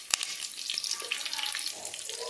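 Green chillies hitting hot oil with browned onions in a pan for mutton biryani, a sharp initial crackle followed by a bright, steady sizzle, close up with no talk.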